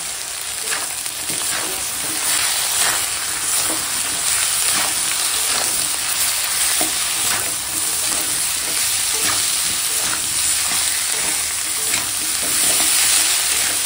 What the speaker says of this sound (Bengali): তো দেখো এখন সুন্দর করে কষাচ্ছি